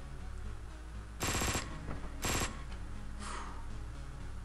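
Two loud, short bursts of gunfire go off about a second apart in Hotline Miami 2, with a fainter third shot after and a quiet background between them.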